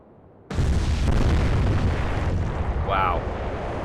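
A German Kriegsmarine torpedo strikes a troop transport ship in the naval game Atlantic Fleet. It lands as a sudden loud boom that swells into a long roaring rumble, and a voice briefly cuts in partway through.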